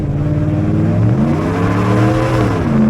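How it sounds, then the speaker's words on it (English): A 2013 Ford F-150 XLT 4x4 with a 5.0 Coyote V8 roars loudly and steadily during a power-braked burnout, the engine note wavering and climbing slightly as it holds high revs throughout. "I discovered that this thing does burnouts easier than almost every vehicle that I have."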